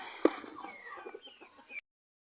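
Newly hatched turkey chicks give thin, high chirps and peeps, close and fairly soft, in a quick scattered series that stops abruptly.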